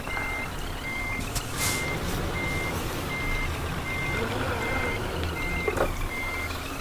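Steady reversing beeps pulse at an even rhythm over the low rumble of a Scania R1200 truck backing up, the engine drone constant and the beeps clear above it, with no talk.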